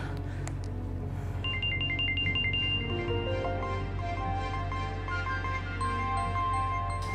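A phone ringtone plays as a repeating electronic melody, steady and clear over a constant background hum, with no voices.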